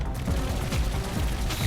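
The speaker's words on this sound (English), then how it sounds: "they're all firing individually at the separate times" Small anti-aircraft cannons firing in the video game Trailmakers produce a dense, continuous rattle of overlapping shots, each gun firing at its own moment so the volley never settles into a single rhythm.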